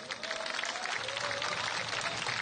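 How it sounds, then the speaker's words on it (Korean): A crowd at a Korean farmers' rally applauds steadily after a performance, dense clapping filling the space for a couple of seconds, with a faint sustained tone underneath. "하승 공연 해주신 분들께 한 번 더 뜨거운 박수를 부탁드리겠습니다."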